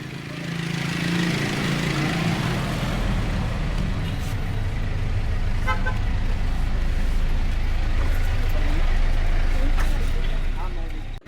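Dense Philippine rush hour road traffic with cars, buses and jeepneys, a loud continuous engine roar and rumble close by, with a person talking over it.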